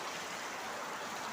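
Floodwater rushes into a factory in a broad, steady roar of flowing water, close and unvarying for a brief moment, with no voices.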